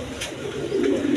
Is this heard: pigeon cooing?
yes